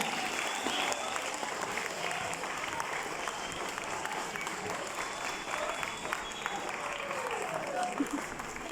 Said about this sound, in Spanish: Fuerte el aplauso para el maestro Gerardo Andrés Herrera Pérez